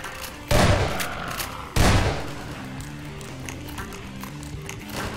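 Two loud gunshot blasts from a shotgun in Half-Life 2: Episode One, the first near half a second in and the second just under two seconds, each with a decaying tail, followed by quieter game sounds with no talking.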